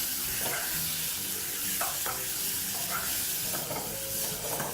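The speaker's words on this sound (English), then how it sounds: "you want to continue mixing that and cooking it at high heat" Mutton browning over high heat in a pot for stew, a steady loud sizzle with repeated scraping stir strokes throughout, close and continuous with no talking.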